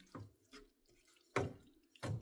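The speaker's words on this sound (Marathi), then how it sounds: "त्यामुळे मी आता थोडं अजून पाणी घालणार आहे" Water being poured into Kolhapuri vegetable gravy as it cooks, a few short splashing pours and drips close by, quiet and without voices.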